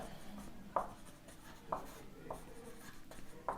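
Pen writing by hand during a Hindi-language physics lesson: a handful of soft, scratchy strokes spaced unevenly over a faint room hum, close and quiet, with no talking.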